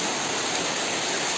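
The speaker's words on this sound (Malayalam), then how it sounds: "അടിപൊളി മഴ." Heavy rain pours down steadily in a dense, even hiss, close and loud throughout with no gaps and no voices.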